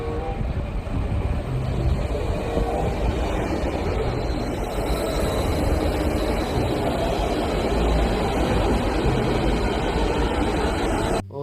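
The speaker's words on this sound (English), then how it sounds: "Oh, bullet train. High speed bullet train." A high-speed bullet train roars past in a steady, loud rush of rail noise with wheel hiss, sustained without a break.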